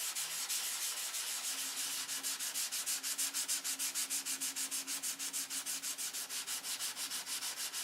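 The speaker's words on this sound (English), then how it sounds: "You want to sand this all back off." A model aircraft wing is sanded by hand with 320-grit paper on a block, making steady, rhythmic back-and-forth rasping strokes, close and alone.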